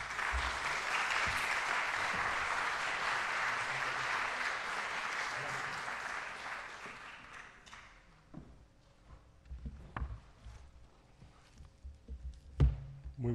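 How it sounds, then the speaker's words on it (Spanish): A book presentation audience gives warm applause, dense steady clapping filling the room for several seconds before fading into scattered footsteps, shuffling and a few knocks. "recibamos entonces con un cálido aplauso"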